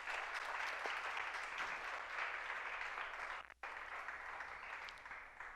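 A church congregation applauds in praise of the Lord, steady dense clapping throughout with a brief dip midway, heard from a moderate distance.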